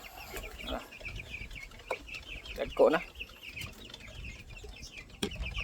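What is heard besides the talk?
Hubbard chickens clucking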